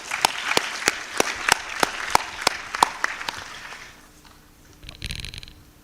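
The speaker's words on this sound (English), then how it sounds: "So a big round of applause to everyone for this session." Applause from a conference audience closing a session, a burst of sharp claps about three per second, fairly loud in a hall, fading out after four seconds, followed by a short faint rattle.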